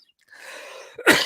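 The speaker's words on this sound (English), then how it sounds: "that hurts every time I cough" A breathy inhale builds up, then one sharp, loud burst of a cough or sneeze, close and explosive.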